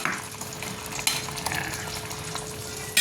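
Green chilli goes into a sizzling pan of sautéed monggo with pork, giving a steady frying hiss with stirring scrapes and a few sharp utensil clinks against the pan.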